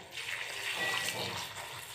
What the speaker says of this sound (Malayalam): ഇനി നമുക്കിതിലേക്ക് നല്ല ചൂടുള്ള വെള്ളം ഒഴിച്ചു കൊടുക്കാം